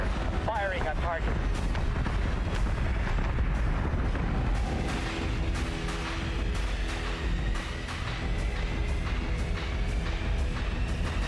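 Ship weapons fire on a target in Battlestar Galactica: Deadlock, a steady barrage of repeated booming shots and rumbling blasts over a constant low battle drone.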